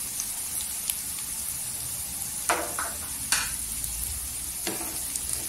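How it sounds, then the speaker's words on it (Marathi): Two or three cut green chillies sautéing in hot oil for a tempering, giving a steady close sizzle broken by a few short stirring scrapes, with no voices. "त्या पण तेलावर परतायच्या छान एकदम"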